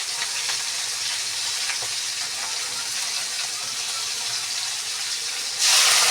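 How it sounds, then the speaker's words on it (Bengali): Prawns frying in hot oil in a home kitchen, a steady loud close sizzle that runs throughout and flares into a brighter hiss near the end. "চিংড়ি মাছটাকে আমি দিয়ে দিচ্ছি চিংড়ি মাছটাকে একটু ভেজে নেবো"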